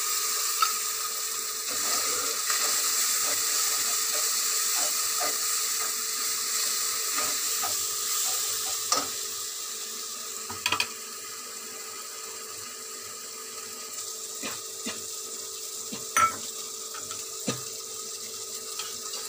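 Spice paste for a jackfruit curry sizzles in hot oil, a soft, continuous hiss with a few sharp pops and clinks from the pan; no voices.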